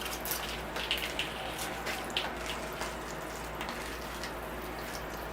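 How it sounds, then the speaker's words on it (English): Water patters and trickles softly onto a bonsai planting, a light steady sprinkle with a few faint drips, quiet and close. "Alright, it's time to give it a watering."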